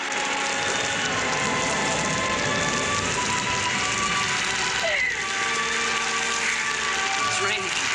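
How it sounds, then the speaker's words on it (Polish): Steady rain hissing and pattering across the whole stretch, a dense continuous wash of sound with faint creaks and movement underneath. "To deszcz."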